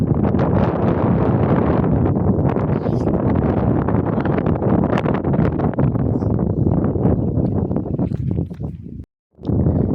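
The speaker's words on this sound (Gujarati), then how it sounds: "મસ્ત મજાનો પવન આવે છે, ઠંડો ઠંડો" Strong, cool wind over open farmland buffeting the microphone in loud, rumbling gusts, broken by a brief drop near the end.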